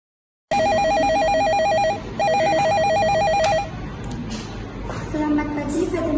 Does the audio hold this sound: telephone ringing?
yes